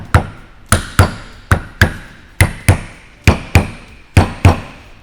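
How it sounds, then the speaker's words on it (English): A small dead blow hammer taps the top plate back onto a C8 Corvette Z06 front lift lowering-collar strut assembly, about a dozen sharp, close, evenly spaced knocks ringing out alone. "you're going to reinstall the top plate here using a small dead blow"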